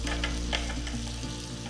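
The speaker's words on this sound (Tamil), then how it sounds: "சின்ன வெங்காயம் போட்டுட்டு கொஞ்சம் லைட்டாக அப்படி வதக்கிக்கோங்க" Shallots sizzle and fry steadily in a pan for avial, with occasional stirring scrapes, close and continuous, no voices.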